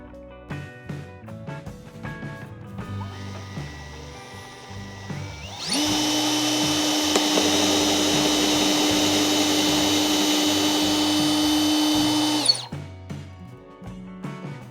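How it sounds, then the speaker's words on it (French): A power drill boring a hole into a piece of wood, a loud steady whine running for about seven seconds and stopping abruptly, with quieter shuffling and handling noises before and after. "Et maintenant j'attaque le perçage."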